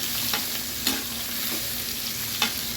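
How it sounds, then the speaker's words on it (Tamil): Onions frying in a pan with spices such as cumin and cardamom, a steady sizzle broken by a few sharp scraping stirs, close and alone with no talk. "வெங்காயம் சேர்த்துருக்காங்க. வெங்காயம் நல்லா வதங்கட்டும்."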